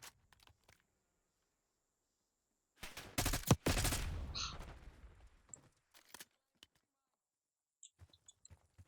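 A burst of gunfire from a weapon in the video game Call of Duty, a loud cluster of shots lasting about a second, followed by scattered faint clicks and small game noises.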